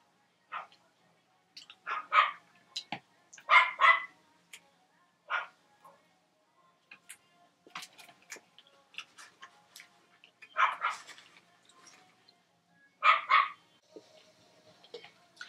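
Several dogs bark in intermittent bursts over a quiet background, with sharp yaps spaced irregularly and occasional faint ticking sounds.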